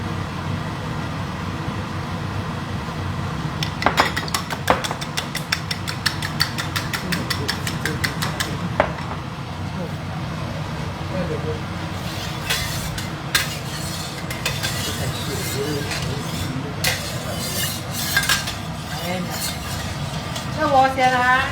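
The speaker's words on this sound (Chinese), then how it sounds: "好，我们先把蛋煎起来。" Eggs frying with scallion in hot oil in a home kitchen, a steady sizzle under clattering utensils and pan scrapes, with people talking throughout.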